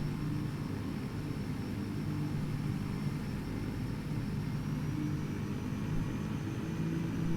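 Beechcraft King Air C90 turboprop taxiing in the X-Plane 11 flight simulator, a low, steady engine rumble with a thin high whine above it, droning evenly throughout with no voices.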